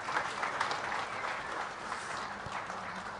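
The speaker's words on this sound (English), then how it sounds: "Please give a huge round of applause for the ladies." Steady audience applause at a Chef technology conference session, dense and continuous from a large crowd, with a few cheers rising out of the clapping.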